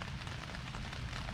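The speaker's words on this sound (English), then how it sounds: "I'm hoping that this rain is definitely going to back off here" Steady rain patters on a trail campsite along the Bruce Trail, a dense, continuous hiss with low rumbling drumming, close and even throughout with no talking.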